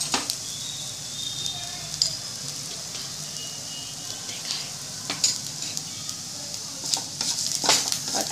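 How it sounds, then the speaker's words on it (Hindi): Browned onion fries in a pan with turmeric and coriander powder, a soft continuous sizzle broken by light scraping stirs and occasional crackles, fairly faint and close, with no talking. "इसको मैं अच्छी तरह भून लूंगी।"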